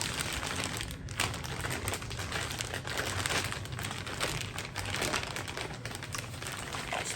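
Plastic wrapping is pulled and crinkled off the box of a MAC 1014 shotgun, a steady, close rustling that runs without a break and with no talk over it.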